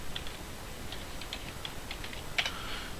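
Fingers typing a command on a computer keyboard, a quiet run of light, irregular key clicks with one slightly louder tap near the end, close up in a quiet room.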